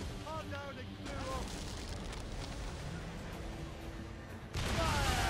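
Cannon fire booms during naval ship combat in Assassin's Creed Rogue on PC, a rumbling barrage of blasts and crashing impacts that swells louder near the end, with a voice talking over the fighting.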